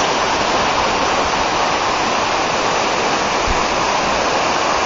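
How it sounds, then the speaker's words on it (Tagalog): A waterfall and flowing water near Mount Pinatubo rush in a dense, steady, broadband roar, close and loud and unbroken, with no voices. "At syempre, meron pa dun, no? Parang waterfalls."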